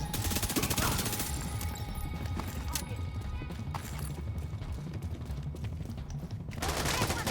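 Rapid automatic weapon fire at 850 rounds per minute in The Division 2, a loud, dense, sustained stream of shots filling the whole span with game sounds, briefly easing near the end before resuming.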